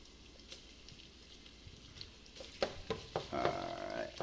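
Ground meat browning in a pan with garlic, a soft steady sizzle with a few scraping stirs and sharper crackles building toward the end, close and fairly quiet.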